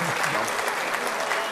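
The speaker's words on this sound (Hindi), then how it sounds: "इस पे ज़्यादा तालियां बजना चाहिए थी" An audience at a poetry mushaira in Kuwait breaks into dense, steady applause, a short burst of clapping heard loud and close, with a voice briefly audible at the start.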